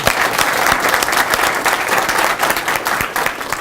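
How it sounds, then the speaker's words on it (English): Loud, steady applause from an audience at a sports meet, many hands clapping densely and continuously throughout, close and full without any break. "I'd say that's worth an applause."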